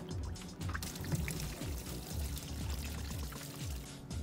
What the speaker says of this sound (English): To get the coolant to flow out quickly, just undo the radiator cap.